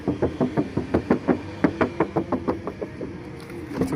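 Steady knuckle knocks on the original factory metal body panel of a 2013 Suzuki Ertiga GX manual, about twenty close, evenly paced hollow raps with no talk.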